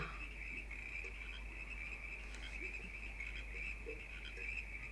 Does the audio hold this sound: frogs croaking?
yes